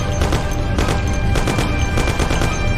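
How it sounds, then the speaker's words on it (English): Thompson submachine gun fire in the Mafia video game, dense rapid bursts of automatic shots running loud and continuous with no talk. "Take my Thompson. You and Sam shoot them."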